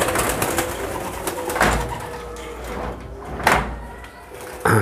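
At an outdoor songbird contest, birds give sharp, high chirps in scattered bursts over a busy, noisy background.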